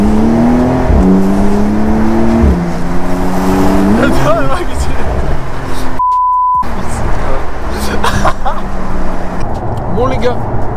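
Porsche 992 Carrera 4S accelerating hard under launch control, its engine note climbing in steady stepped pitch sweeps through the gears, loud and close, followed by a brief electronic beep and continued engine sound, with a person talking over it.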